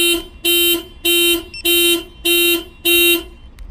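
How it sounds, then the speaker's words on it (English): A loud Clifford 3305X car alarm blares in six evenly spaced bursts, each a harsh sustained tone about a third of a second long, with a brief chirp between two of them. "If you hold this button down, you can fire the alarm off."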